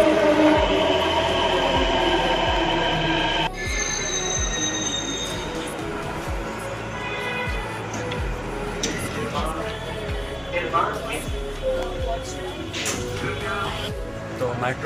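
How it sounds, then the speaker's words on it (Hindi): A Delhi Metro train pulls into Nirman Vihar station, its wheels squealing loudly and steadily over a close, rumbling rail noise that shifts partway through as the cars slow, with voices murmuring in the background. "ये देखिए मेट्रो आ गया है।"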